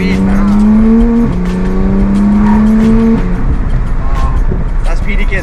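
Porsche 991 GT3 with PDK Sport gearbox accelerating hard, engine note climbing steadily through two quick upshifts, loud and close, with people talking over it.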